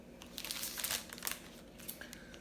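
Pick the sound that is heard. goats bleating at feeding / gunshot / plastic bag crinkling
plastic bag crinkling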